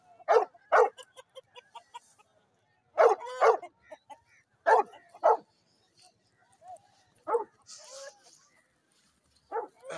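A bully-breed dog barks in separate bursts of two or three deep, loud barks, close by in an otherwise quiet setting.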